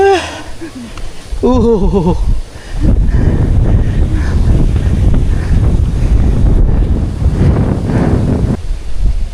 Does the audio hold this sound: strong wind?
yes